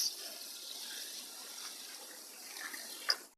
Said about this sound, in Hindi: 1 कप पानी ऐड करते हैं।